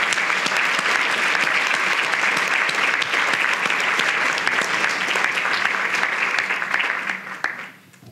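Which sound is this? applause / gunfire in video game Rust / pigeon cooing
applause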